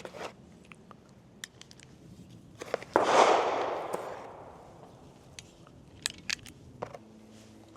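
A single loud gunshot from a Beretta M9A1 pistol at an outdoor shooting range cracks near the middle, followed by a fading echo; a few faint clicks and handling noises sit around it, with no talking.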